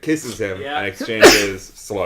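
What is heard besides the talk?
sneeze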